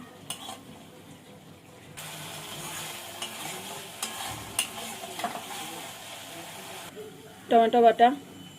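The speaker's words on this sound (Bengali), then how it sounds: "আঁচটা কমিয়ে কষাতে হবে।" Ginger, onion, garlic and cumin pastes with turmeric and chili paste are sautéed on low heat for a rohu fish curry, giving a low steady sizzle with scraping stirs and a few louder clinks near the end.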